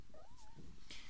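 A cat lets out a single short, rising-then-falling meow while having its claws trimmed, close and fairly clear, with faint handling noise around it.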